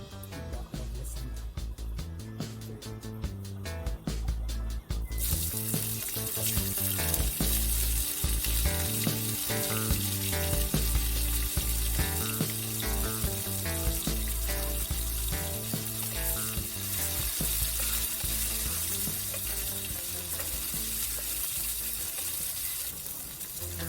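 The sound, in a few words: pimento seeds sizzling in frying oil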